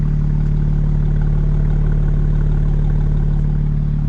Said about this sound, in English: We're gonna get out of this parking garage now and just listen to that idle.